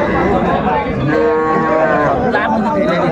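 Young bulls and heifer calves moo at a busy cattle market, a drawn-out low bellow rising above constant crowd chatter and overlapping animal noise.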